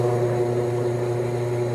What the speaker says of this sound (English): take the drill press, kick it on, and drill a hole